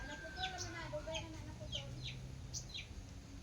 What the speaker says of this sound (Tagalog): Nagipang kitkit na sa manok.